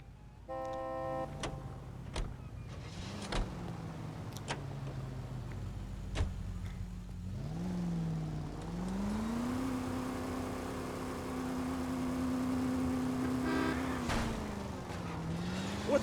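A car driven in the video game LA Noire, its engine humming steadily and rising and falling in pitch as it speeds up and slows, with short horn toots and sharp clicks breaking in now and then.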